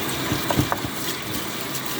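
Warm water running to soak cut cauliflower, a steady close rush of tap flow filling a container, with a few small knocks near the start.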